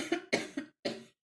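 A short burst of three or four dry coughs, close and fairly loud, with a brief pause before the last one and no talking.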